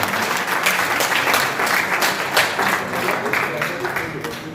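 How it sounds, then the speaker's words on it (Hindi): A crowd claps at a Lions Club divisional convention, loud sustained applause from many people that swells and gradually tapers off at the end. "तालियां थोड़ी और होनी चाहिए।"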